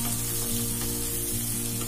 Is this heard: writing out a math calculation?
no